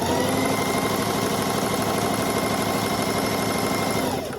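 A sewing machine stitches through layers of ribbon for a size 3T tutu, giving a steady, close mechanical whir with a fast, even pulse that runs unbroken throughout.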